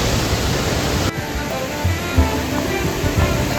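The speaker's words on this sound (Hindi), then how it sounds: "बारिश हो रही है और ये यहाँ पे रास्ता खत्म, वाटरफॉल है" Heavy rain and a rushing waterfall on a mountain trek in the Kheerganga area, heard as dense, loud, steady hiss and roar with a sudden shift in texture partway through.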